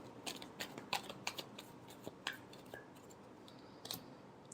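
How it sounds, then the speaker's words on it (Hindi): Tarot cards getting a final shuffle, heard as quiet, close riffling and crisp ticking clicks in irregular bursts against a soft background, without speech. "last shuffle"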